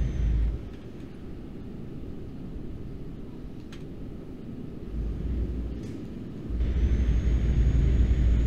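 Steady low engine rumble of an Iveco truck in Euro Truck Simulator 2 with a loud hiss of air brakes swelling near the end, all without voices.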